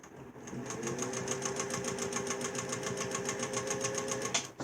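A 1957 Singer 201 sewing machine stitches through fabric, its needle running in a quick, even, rapid patter with a smooth, quiet motor hum, steady throughout and stopping abruptly at the end.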